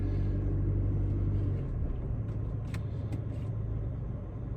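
Vintage camper rolling slowly with its self-adjusting brakes being tested, a steady low engine and road rumble throughout, with a few faint high squeaks or brake hisses near the end.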